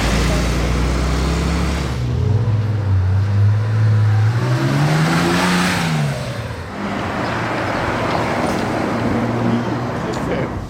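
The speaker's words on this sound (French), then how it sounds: "cette Porsche, je viens de la voir passer là dans l'avenue d'Ostende juste en dessous." A Porsche sweeps past on Avenue d'Ostende in Monaco, its engine note rising and falling as it passes by amid steady street traffic, with someone talking over it.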